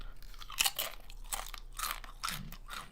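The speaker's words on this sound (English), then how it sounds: "They're also quite crunchy for the ASMR crowd." Trader Joe's fall leaf tortilla chips crunch loudly and close up in several quick bites, with dry, crackling chewing between them.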